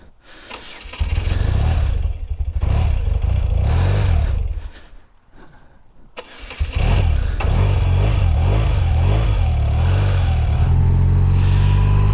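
A 41-year-old BMW R100CS Airhead motorcycle engine starting and running, loud and close with a throbbing idle, dipping briefly before revving back up steadily.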